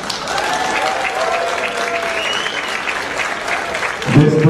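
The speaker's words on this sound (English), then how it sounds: "please give them a round of applause" Audience at a 2014 AIU graduation ceremony claps in a steady, dense round of applause throughout, with a louder burst near the end mixed with a voice and crowd murmur.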